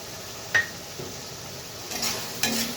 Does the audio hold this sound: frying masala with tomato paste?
yes